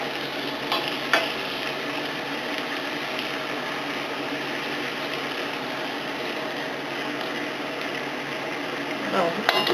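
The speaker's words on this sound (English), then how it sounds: "Stir that up. We want that flour to cook a little bit." Flour and cornstarch stirred into sliced zucchini in a single frying pan, a steady close scraping and soft sizzle running throughout, with faint clatter near the start and end.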